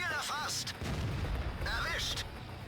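Tank cannon shots in World of Tanks: two heavy booming blasts about a second and a half apart, loud and close, with a rumbling low tail after each.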